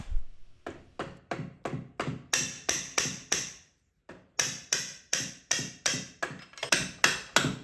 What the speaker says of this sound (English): Removing stuck bolts on bikes is the old rubber hammer